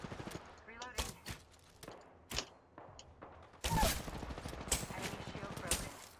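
Gunfire in the video game Apex Legends: scattered sharp shots and short automatic bursts, some near and loud, others quieter, with people talking faintly underneath.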